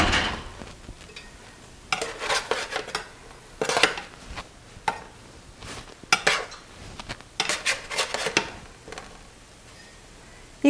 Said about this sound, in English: so now I'm going to take my meatballs out and flip them